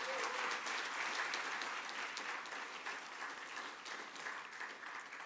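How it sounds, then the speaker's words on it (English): Steady, full applause from a summit audience filling the room, even and sustained from start to finish with no voices standing out, slowly easing slightly toward the end. "Please give yourselves a round of applause."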